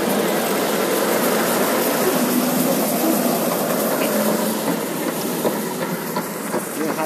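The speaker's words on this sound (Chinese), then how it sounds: "哦，火车头而已。" A train locomotive runs nearby on a mountain trip to Taipingshan, Taiwan. It gives a steady, loud, close rumble with broad mechanical noise that holds through the whole stretch, with no clear talk over it.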